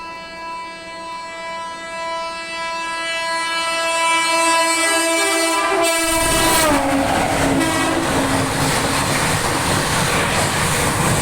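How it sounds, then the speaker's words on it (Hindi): Passenger train horn sounding long and steady, then the train rushes past at full speed with a sudden loud roar and rattling wheels that continue close by. "बाप, इतनी अपनी फुल स्पीड में भागी कि कुछ दिख भी नहीं किया कौन सी ट्रेन थी"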